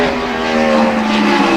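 A NASCAR Sprint Cup car on a 2010 qualifying lap at Infineon Raceway, heading downhill, gives a loud, steady engine drone with a strong harmonic whine that holds throughout, with no voices.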